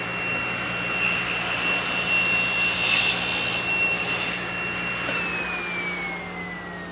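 A table saw makes a cut through a workpiece held in a Woodpeckers joinery sled, a steady high-pitched motor whine with broadband cutting noise swelling midway, then the blade note dropping as it spins down, close and loud with no talk.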